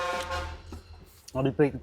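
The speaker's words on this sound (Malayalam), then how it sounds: "ഈ ഹോൺ നൈസ് ഹോണല്ലേ" A short vehicle horn toot sounds at the start, followed by a person talking nearby.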